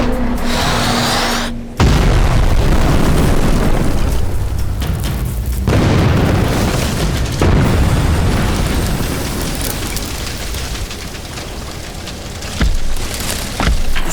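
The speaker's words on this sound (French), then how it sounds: "Attention à la détonation! Attention, maintenant ça va exploser!" A detonation on a house demolition site produces a heavy boom followed by long, loud rumbling and crashing debris, with further thuds rolling on for several seconds.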